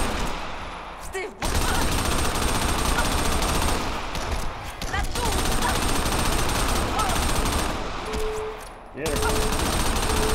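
Video game gunfire from Crackdown on Xbox 360 comes in long, loud automatic bursts broken by a few short pauses, with players talking briefly over the shooting.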